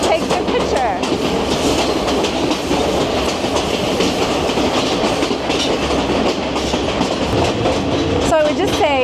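Sri Lankan ordinary passenger train running, heard from an open window at the front: steady loud rumble and rhythmic clickety-clack of wheels over rail joints, with wind noise and faint voices in the carriage.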